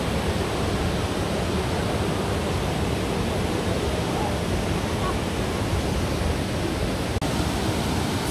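A waterfall in Krka National Park pours into a pool, producing a dense, unbroken roar of rushing water that stays loud and steady from start to finish.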